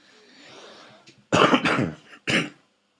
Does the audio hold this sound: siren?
no